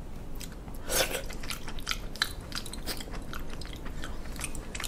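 Raw sea squirt chewed close to the mouth, wet squelching bites and soft crunches repeating unevenly over a low background hiss, with no talking.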